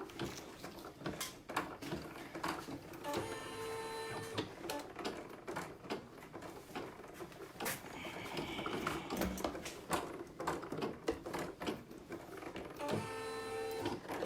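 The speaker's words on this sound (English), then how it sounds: "We're going to put it in the machine, and we are going to beam stitch tack those 2 tails down" An embroidery machine stitches a tack-down and die line on vinyl, with a rapid, steady mechanical clatter of needle strokes, close and continuous, and brief whirring carriage movements in between.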